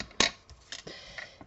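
Small scissors snipping double-sided tape for a pull-tab greeting card: one sharp, close cut followed by a few lighter snips and taps, with no talking.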